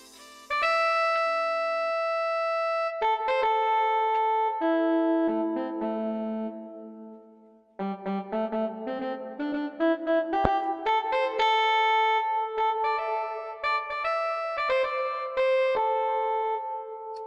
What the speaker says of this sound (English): let's look at how the saxophone sounds like